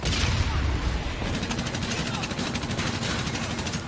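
Rapid automatic gunfire from a futuristic weapon in the Call of Duty: Infinite Warfare campaign rattles in a dense, continuous burst, loud and close, with a heavy low-end thump under the crackle.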